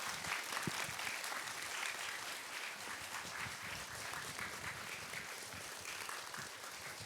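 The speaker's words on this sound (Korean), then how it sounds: "뜨거운 박수 부탁드립니다." A lecture audience gives dense, sustained applause to welcome a medieval philosophy professor at a public talk. The clapping is steady and continuous throughout, with no speech over it.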